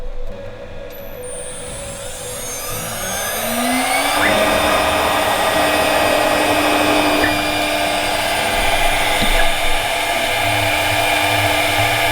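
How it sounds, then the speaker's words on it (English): CNC mill roughing a part for a sea chest puzzle box with a 1/4 inch end mill, a loud steady machining whine with a tone that rises as the cut starts, then holds a continuous high grinding cut throughout. "right now it's just going to do some roughing with a 1/4" end mill"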